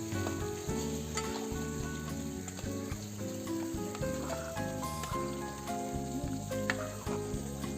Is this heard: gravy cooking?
yes